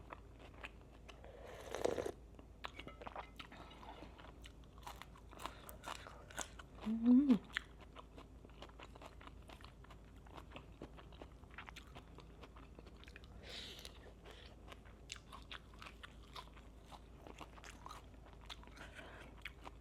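Crunchy bites and chewing of spicy soy-pickled salmon salad, close and fairly quiet, with a few louder crunches at scattered moments and faint background sounds throughout.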